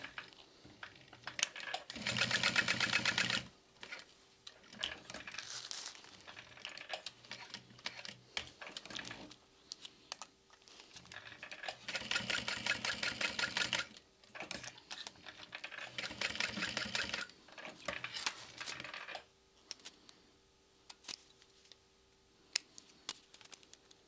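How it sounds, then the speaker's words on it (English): A sewing machine stitches a slide adjuster down onto a handmade backpack, running in three bursts of rapid, steady stitching a few seconds each, separated by quieter pauses of handling and small clicks, with no talking. "I'm going to grab my slide adjuster. and just sew this down all together."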